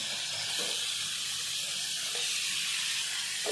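Ground ridge gourd paste tipped into a hot pan with fried thecha gives a steady, fairly loud hissing sizzle that runs without a break through the whole stretch, with no voices over it.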